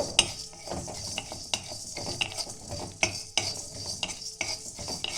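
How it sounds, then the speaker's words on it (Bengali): Cardamom, cinnamon and cloves lightly frying in a pan, with a gentle sizzle under frequent close stirring and scraping clicks of a spoon against metal. "দুটো এলাচ, একটু ডালচিনি আর 4টে লবঙ্গ দিয়ে এটাকে আমি হালকা ভেজে নেব"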